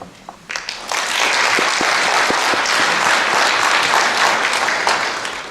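An audience at a literary award ceremony bursts into loud, sustained applause for an honoured poet, starting with a few scattered claps and swelling after a moment into a dense, even roar of clapping that holds steady to the end.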